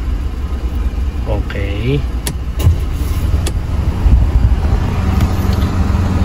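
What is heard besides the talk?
car engine idling with air conditioning switched on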